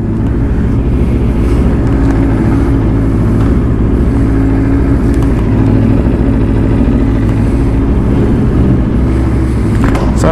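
Engine of a 2017 Aprilia RSV4 RF motorcycle with a carbon Akrapovic slip-on exhaust, a loud, close, steady idle with a deep throbbing burble and a few light blips.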